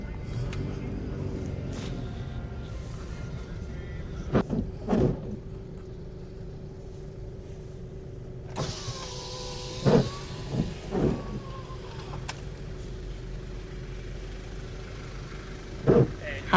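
A car drives along a road on a remote coastal island, a steady low engine and road rumble running throughout with a few brief louder knocks and bumps and a short rising whine partway through.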